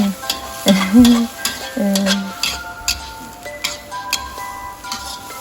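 Minced pork and bamboo shoots stir-frying in a pan, with a continuous sizzle, clicks and scrapes of the spatula, and brief tonal squeaks early on.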